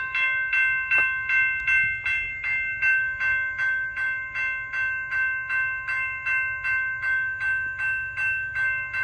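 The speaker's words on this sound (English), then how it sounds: "Off he goes, Amtrak 30, heading east." Amtrak 30 passenger train passing eastbound on CSX's Cumberland Sub, a steady run of rhythmic clickety-clack from the cars with tonal wheel or horn ringing above a low rumble, close and fairly loud throughout.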